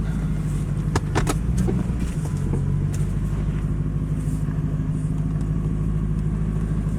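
Lowered Lexus LS400 rolling slowly down an alley, a steady low car rumble throughout with a few brief scraping rub sounds from the tyres near the start.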